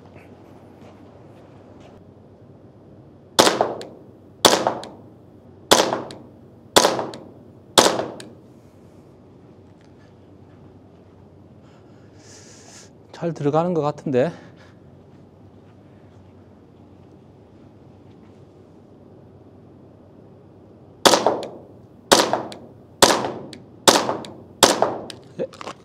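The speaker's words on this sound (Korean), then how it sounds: "VFC 사격 계속 진행을 해보도록 할게요." A VFC Glock airsoft pistol fires test shots in two strings: five sharp, evenly spaced pops, a pause with brief speech, then about six more pops in quicker succession, all close to the microphone.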